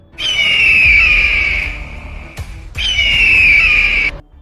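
A loud, piercing eagle screech, a movie sound effect, held for about two seconds, then repeated once after a short gap, each cry sustained and shrill.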